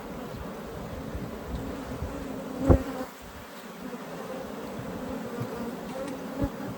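Africanized honey bees swarm at an opened hive during a hive check, a steady close buzzing drone with one brief thump partway through and no speech.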